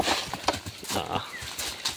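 A horse hauling a load of large logs in Tayabas, its hooves clip-clopping in an uneven rhythm of close, moderately loud steps against outdoor background noise.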